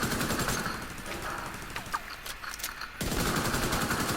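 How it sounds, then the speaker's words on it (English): Rapid automatic turret fire in The Division 2, a dense, loud stream of shots that briefly thins in the middle before resuming at full intensity, with no talking. "You just need the turret to do its thing."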